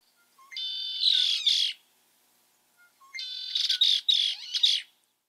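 Two bursts of harsh, shrieking squalls from a female bird drowning out a male's song, close and loud, each a squally run of notes separated by a short silence.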